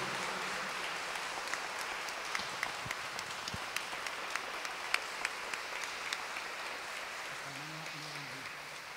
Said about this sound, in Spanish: aplausos para Dios.